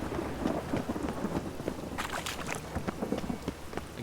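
Thunder from an approaching storm in The Witcher 3: Wild Hunt rumbles low and continuous under a dense hiss like rain or wind, with a sharper crackling burst midway.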